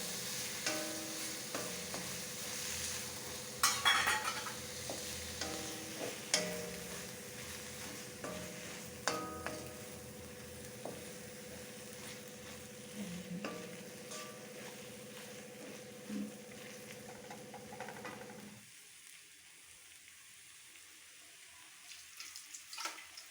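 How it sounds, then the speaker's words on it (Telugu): Boti (goat tripe) and liver sizzle and get stirred in a pan in a Rayalaseema-style kitchen, a moderate frying hiss with scattered clinks and scraping for about eighteen seconds before falling nearly silent. "ఇందులోకి వేస్తున్నామండి హాఫ్ కిలో ఇది ఇది కూడా బాగా వేయించుకోవాలి"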